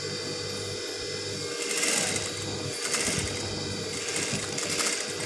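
A sewing machine stitches a nighty with a steady whirring hum, running continuously at close range with slight surges in speed, no talk over it.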